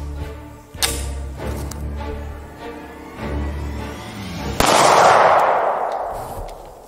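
A 9mm pistol fires into a paper calendar, two sharp, loud cracks a few seconds apart, the second followed by a broad, lingering roar.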